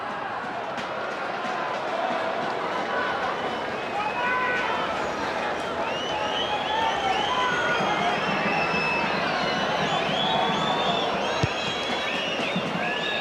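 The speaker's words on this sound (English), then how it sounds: "Applause rings around Olympic Park" Stadium crowd at Olympic Park during the closing seconds of a Melbourne Victory versus New Zealand Knights A-League football match, with a steady, dense roar of applause and cheering from many spectators and a commentator talking over it.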